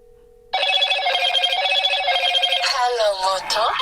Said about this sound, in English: Now let's try the test phone call.